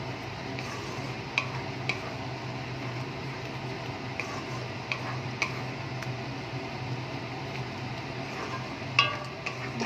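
A spoon stirs chicken do pyaza curry in a pot after almond and poppy seed paste is added. Soft, steady scraping, faint sizzling and occasional light clinks of utensil on metal sound close by, with no talking.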